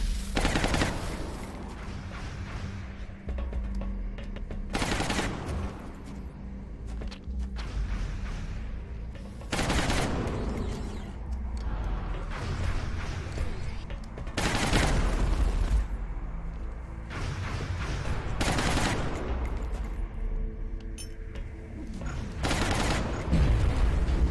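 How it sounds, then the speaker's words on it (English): Heavy gunfire during a base assault in XCOM Long War, a video game, with dense overlapping shots and loud sharp bursts throughout, broken by repeated booming blasts. "taking heavy fire over here"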